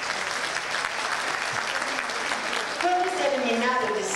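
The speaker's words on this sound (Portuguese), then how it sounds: "eu peço aplausos de vocês" Audience applause at a fashion show event, a steady sustained clapping wash filling the room, with a voice and some musical tones entering near the end.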